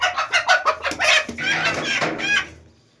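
A hen recovering from leg paralysis clucks and squawks in agitated bursts as it is caught by hand, close and loud, fading out at the end.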